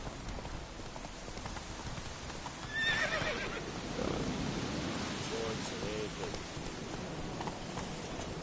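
In The Witcher 3 video game, a horse gives one clear whinnying neigh partway through, followed by a softer snort. Hoof clip-clop and a hissing, rain-like ambience sit underneath.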